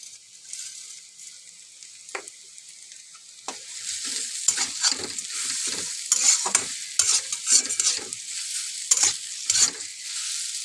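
Grated taro (kochu) frying in a pan while being stirred, a steady high sizzle broken by repeated scraping strokes of the spoon, close and clear with no talk.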